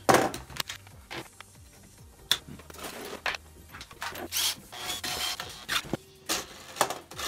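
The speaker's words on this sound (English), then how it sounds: "Now I need to bolt this motor onto this mount." A NEMA 23 motor is bolted onto a mount: scattered close clicks, metallic taps, and scraping and sliding handling noises in an irregular rhythm, fairly quiet, with no talking.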